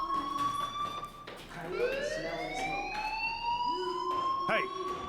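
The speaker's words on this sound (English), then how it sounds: "Hey, do you hear that fire alarm?" A fire alarm wails in the video game Life Is Strange, its rising and falling siren-like tone loud and continuous over several seconds, with people talking over it.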